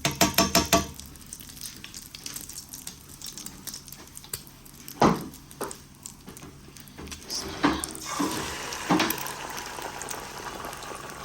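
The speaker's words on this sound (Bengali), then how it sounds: "চলেন ডিমটা ভাজি করি। তেলটা গরম হয়েছে নিচে" An egg fries in hot oil in a pan, a close, continuous bubbling sizzle with crackling spatters, several sharper pops and brief stirring scrapes throughout.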